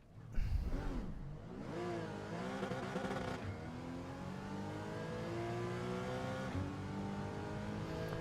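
A Porsche Cayman race car in Gran Turismo 7 revs hard on WeatherTech Raceway, its engine note rising and falling through gear changes in a continuous, fairly faint drone.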